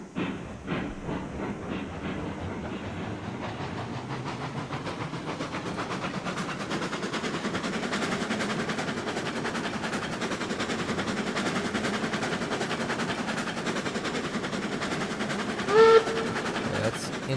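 A video game steam locomotive at full regulator chuffs and hisses steadily, building into a dense, continuous rumble of rapid exhaust beats that carries on throughout.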